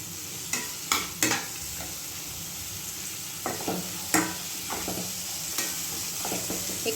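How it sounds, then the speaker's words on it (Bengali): Onions, capsicum and dry red chillies fry in a pan over high flame, a continuous soft sizzle with occasional scraping knocks from stirring, close by and with no voices. "দেখছেন পেঁয়াজ, ক্যাপসিকাম, শুকনো লঙ্কা সবই ভাজা ভাজা হয়ে গেছে।"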